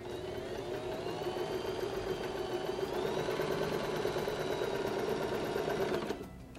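A sewing machine stitching a multipurpose fabric basket, a steady close-up mechanical whir with a rapid needle rhythm that runs continuously for about six seconds and then stops abruptly.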